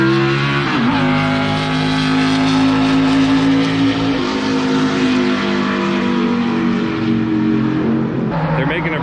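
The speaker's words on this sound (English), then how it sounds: "I never thought I would hear a Lumina Cup car make noise at Rockingham." A loud Lumina Cup race car engine drones for several seconds at Rockingham Speedway, pitch climbing and dropping through shifts, with a voice faintly audible underneath.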